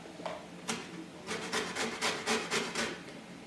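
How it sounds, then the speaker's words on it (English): Lemon rind being grated over a grater, a series of rhythmic rasping strokes that grow steadier and more repeated toward the end, close and moderately loud with no talking. "You want to grate the back of the lemon."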